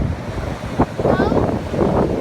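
Ocean waves washing onto a beach under gusting wind, a continuous rough rumble with buffeting wind noise on the microphone and a faint voice in the background.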